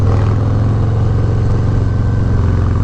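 A 2019 Harley Davidson Heritage Classic motorcycle engine rumbles loud and close, its deep, steady throb throughout with an even, slightly rising rev and no voices.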